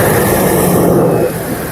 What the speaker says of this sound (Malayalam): എൻജിൻ്റെ സൗണ്ടും കാര്യങ്ങളും ഒക്കെ നിങ്ങൾക്ക് കേൾക്കാം.